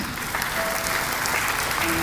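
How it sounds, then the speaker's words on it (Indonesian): Audience applause at a Founders Day event, a continuous, dense burst of many people clapping together at full volume, with a voice faintly audible underneath. "Tepuk tangan buat kita semua."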